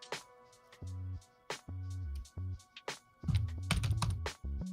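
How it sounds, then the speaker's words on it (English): Typing on a computer keyboard while entering fastboot commands to flash a Google Pixel 7, close clicky keystrokes in uneven bursts with brief pauses, plus a faster run near the end, no talking. "I like to type it out to make sure that everything is typed out correctly and that there's no issues"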